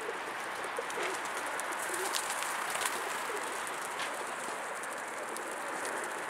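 Pigeons cooing softly in a steady murmur, with a constant hiss in the background.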